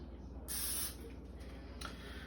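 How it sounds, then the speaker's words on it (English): Cooking spray misted into silicone muffin cups, a short close hiss of about half a second followed by a fainter second burst, with no talk. "So just a quick spray inside these silicone"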